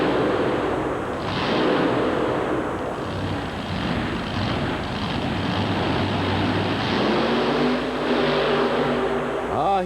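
The supercharged Chrysler-powered Bog Bandit monster truck races through mud at an arena event, its engine roaring loud and steady, rising and falling as the throttle opens and closes.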